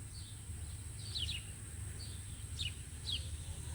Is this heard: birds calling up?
yes